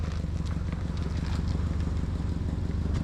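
Car with a clogged catalytic converter idling nearby, a deep rhythmic exhaust burble with a muscle-car, Camaro-like tone that holds steady throughout.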